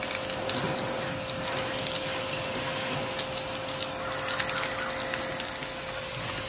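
Steady rushing water splashing and draining as dirty water rinses out of an air conditioner's outdoor unit during servicing, with a constant mechanical hum underneath, continuous throughout.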